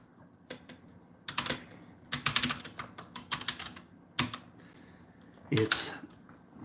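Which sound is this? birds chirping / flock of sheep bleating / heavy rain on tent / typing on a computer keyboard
typing on a computer keyboard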